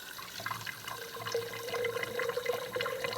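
Tap water pours into a container, a steady splashing stream that rises slightly in pitch as it fills, alone with no talk.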